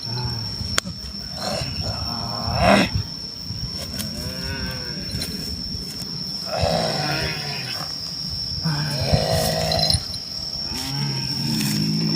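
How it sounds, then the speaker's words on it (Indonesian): Tiger-like roaring during a staged mystical combat performance: several long, deep, groaning roars, each a few seconds long and spaced apart, loud and close over a steady background hum. "Macan."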